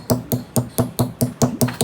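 A silver tube is hammered narrower on a table: eight sharp metallic blows land in a steady, quick rhythm, about five per second, loud and close, with no talking.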